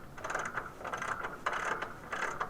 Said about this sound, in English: So there's that 21mm nut. It goes on very easily. Tighten it down